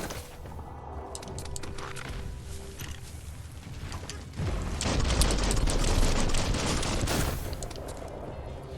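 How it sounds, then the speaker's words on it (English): Gunfire in the video game Biomutant, a dense burst of crackling shots and booms that swells loud midway under ongoing game noise. "Bullets everywhere."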